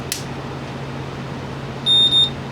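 A magnetostrictive ultrasonic scaler, repaired after failed capacitors were replaced, gives a short electronic beep on power-up: a clean high-pitched tone sounding briefly twice in quick succession over a quiet room hum.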